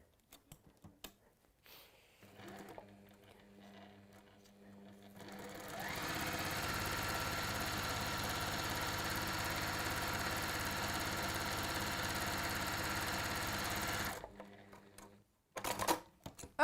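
A sewing machine stitches down a line of folded fabric in one long, steady run of rapid mechanical chatter, with quieter handling noises before and after.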